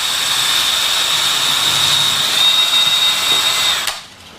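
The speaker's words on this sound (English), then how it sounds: "drill a hole" A power drill bores a hole up into a wooden ceiling joist, giving a steady, loud high-pitched whine that runs for about four seconds and then stops abruptly.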